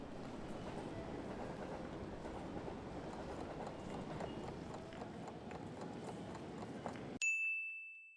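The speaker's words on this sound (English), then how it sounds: "You are on a platform at a train station where you're waiting for your train." Station platform ambience, with a steady murmur of footsteps and bustle, then a sudden bright electronic chime from a display that rings out clearly and alone at the end, near and moderately loud.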